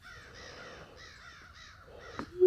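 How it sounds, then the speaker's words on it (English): Crows cawing outdoors near a camp, a run of hoarse calls in short bursts at moderate distance, ending with a brief knock and a rising noise. "You know what you call a group of crows"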